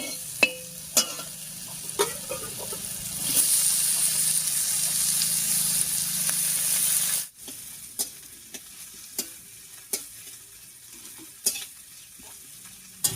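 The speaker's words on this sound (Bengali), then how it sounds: "পেঁয়াজ আর কুমড়োটাও খুব সুন্দর করে ভাজা হয়ে গেছে" Chopped onion, pumpkin and garlic sizzle in hot oil, a steady loud frying hiss broken by repeated clicks of stirring that continue after the sizzle drops off.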